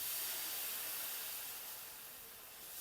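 Dosa batter sizzling on a hot pan, a continuous even hiss, fairly close and steady, fading slightly before swelling again, with no voices.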